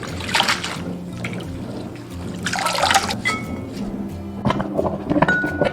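Jinxianlian herb rinsed by hand in running water, with intermittent splashing bursts of water between quieter trickling and faint clinks, close and fairly steady.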